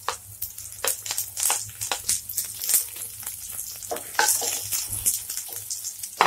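Garlic and green chilies fry in oil in a pan for a spring onion sabzi, giving dense, close crackling and spitting bursts over a sizzling hiss.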